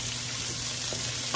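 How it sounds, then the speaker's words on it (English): Cabbage is poured into a pan on a high burner and stirred, giving a loud, steady close-up sizzle with light scraping and no talk. "And then I'm going to go ahead and pour my cabbage in."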